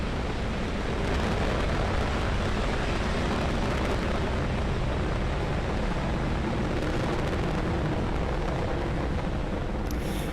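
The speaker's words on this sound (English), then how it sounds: "there is successful liftoff of Falcon 9" A SpaceX Falcon 9 lifting off on the CRS-18 Dragon resupply mission, a loud, dense, unbroken roar that holds steady and crackles for ten seconds with no voices.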